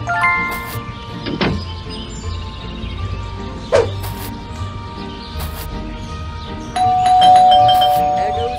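A doorbell chimes inside the Scary Teacher 3D video game, with several bright ding tones spaced across the stretch over quiet ambient game noise and the odd soft chirp.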